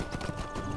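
Horse hooves clip-clop in a steady, soft rhythm during riding in the Lord of the Rings Online video game, heard alone and fairly faint.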